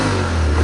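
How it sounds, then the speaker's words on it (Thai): A 2018 Honda X-ADV 750 engine revving in neutral, a loud, close, steady mid-pitched engine drone with a sustained rev and no voices. "ฟังเสียงเครื่องยนต์นะเครื่องยนต์ดีนะครับ"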